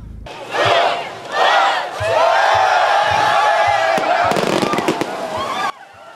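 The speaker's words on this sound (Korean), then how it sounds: "새해 아침 힘찬 함성과 함께 주저없이 바다로 뛰어듭니다" A crowd of hundreds roars and shouts together as swimmers charge into the cold sea at a New Year's morning penguin swim, a loud sustained group cheer with splashing and sharp bangs near the end.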